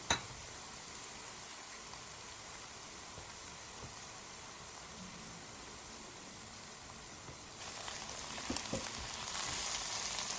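Chopped onions, potatoes and carrots fry in a pan with a steady, close hiss and sizzle. The sizzle grows louder and busier toward the end, with occasional stirring clatter.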